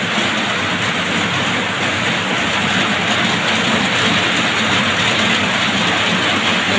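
Steady, heavy rain hisses continuously and loudly, a dense unbroken wash of sound with no voices.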